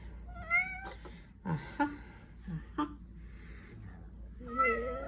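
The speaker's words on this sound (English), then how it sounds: "There's a picture of my noisy cat." A cat meows several times nearby, in short tonal cries with pauses between, against quiet background hum and faint soft voices.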